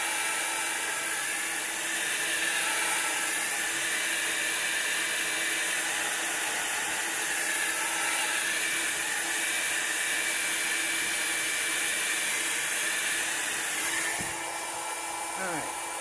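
A handheld drying tool blows a steady, hissing whir across a card coated in alcohol ink, running continuously and fairly close before cutting off near the end.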